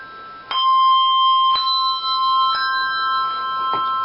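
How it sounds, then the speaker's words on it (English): Handbell rung in four-in-hand ringing: four clear strikes about a second apart, each ringing on with a bright sustained tone, close and loud with no talk. "and then the upper bell."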